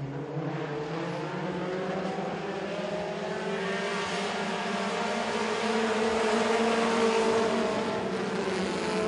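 Several short-track race cars accelerate together off the start of a heat race at a speedway, a steady loud engine drone that builds slightly in pitch and volume, with no voices.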